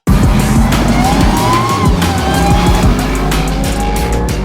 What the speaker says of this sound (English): 840 horsepower supercharged Demon engine.